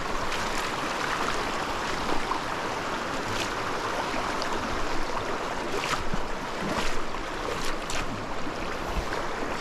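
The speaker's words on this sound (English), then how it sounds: "we're gonna wade across the creek here" Water rushing and splashing as someone wades across a tiny mountain creek, a steady close churning flow with small bursts of sloshing from footsteps.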